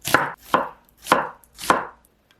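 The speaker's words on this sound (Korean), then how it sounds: "양파는 얇게 채 썰어 주세요." A knife slices through onion on a cutting board, four crisp, evenly spaced cuts close by, with quiet gaps between strokes.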